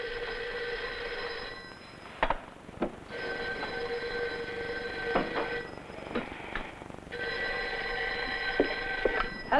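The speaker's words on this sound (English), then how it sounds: "There's the phone." An old-fashioned telephone bell rings in repeated long bursts with short gaps between them, clear and fairly close in a quiet room, with a few knocks and clicks and no speech.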